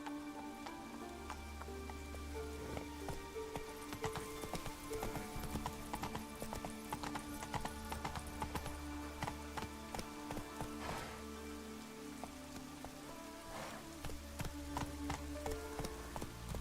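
Hooves of Roach, a horse in The Witcher 3, clip-clopping in a steady walking rhythm over a continuous patter of rain, moderately close and unbroken for the whole stretch.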